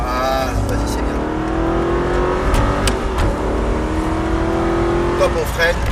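An Aston Martin V8 accelerates on the Grand Sambuc race circuit, its engine note climbing steadily and loud from close by, while an instructor talks over it.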